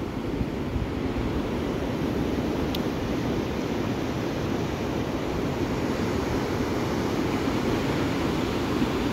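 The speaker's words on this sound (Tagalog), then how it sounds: "Ayan, malalaking alon." Big ocean waves at Binmaley beach, a steady, loud roar of surf with constant wind rush on the microphone and no distinct breaks or voices.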